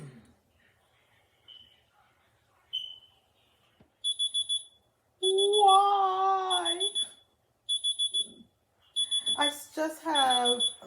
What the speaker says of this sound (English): But you hear my timer going off.